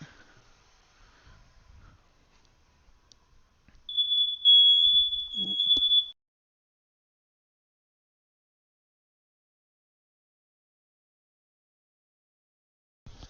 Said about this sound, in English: My team made my fire alarm go off for a second.